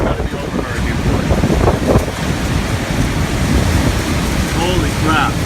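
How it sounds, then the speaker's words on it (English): Strong hurricane-force wind gusting between seaside buildings on the shore, a loud continuous roar buffeting the microphone with no letup. "these winds coming between the buildings here have definitely got to be. Oh, yeah. That's got to be over hurricane force"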